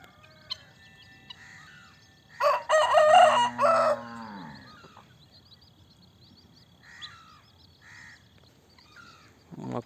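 A country rooster crows once, loud and close, amid faint farmyard clucking from hens with chicks settling under wings; quiet rural background before and after.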